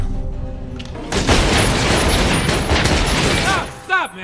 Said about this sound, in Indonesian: para pengawal langsung menembak tanpa berpikir